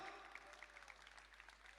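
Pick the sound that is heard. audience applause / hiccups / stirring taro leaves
audience applause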